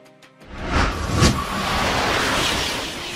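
A high-speed passenger train rushes past, a broad whooshing roar that swells quickly out of near silence and holds steady and loud to the end.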